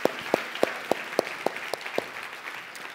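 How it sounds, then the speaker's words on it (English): Crisp, evenly spaced claps from an audience at a talk ring out, about a dozen in a steady rhythm, gradually fading softer toward the end. "So if we can just give one more round of applause for all the ICPA staff."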